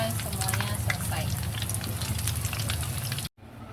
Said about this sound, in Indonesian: lalu goreng untuk sisanya ya